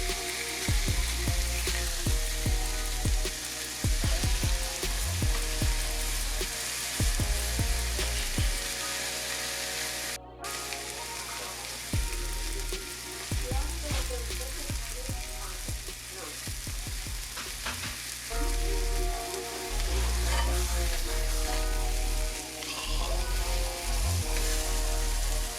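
Sausages sizzle steadily on a hot griddle, a continuous close frying hiss broken by intermittent clacks and scrapes as they are moved around, with music playing along underneath.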